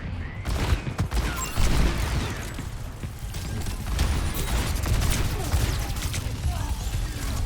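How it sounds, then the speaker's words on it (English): Gunfire from the hero Sojourn in the Overwatch 2 shooter game, with dense rapid shots and impacts over a busy, continuous mix of game effects at steady loudness. "Like that Sojourn shot"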